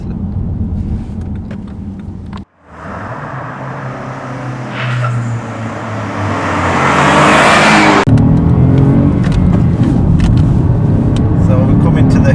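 A 2015 BMW 318 accelerates on a test track, engine and road roar swelling to a loud, steady drone after a brief dropout, with a voice talking over it.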